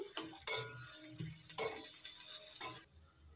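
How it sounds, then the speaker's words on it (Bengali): Potato filling for egg devils, with chopped coriander just added, stirred in a pan: a few sharp utensil scrapes and clinks against the metal spaced about a second apart, quiet and close with no talk. "একটু নাড়িয়ে নিচ্ছি।"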